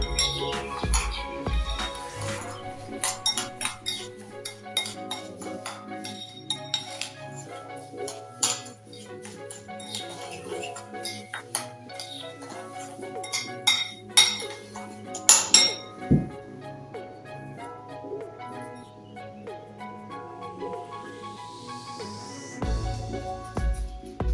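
Spoon clinking and scraping against a bowl while rosemary, lemon and scrub ingredients are stirred together, a steady run of close ringing taps with louder knocks, and a brief voice near the end.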